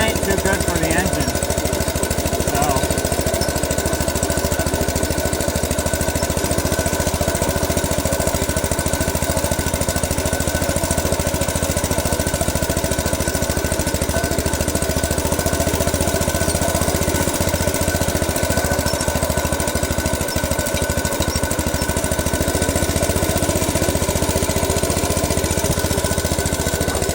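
Small engine of a 1961 Cub Cadet tractor running loud and steady at a fast, near-overspeeding idle, with a wild, rattly exhaust note from its muffler throughout.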